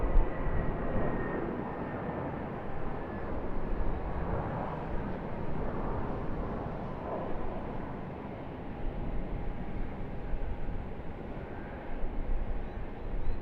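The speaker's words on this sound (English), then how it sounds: "I believe this is our international Jetstar A320 departure." Jetstar Airbus A320 jet departing Sydney Airport, a steady broadband engine roar held at moderate level throughout, with faint whining tones drifting above it.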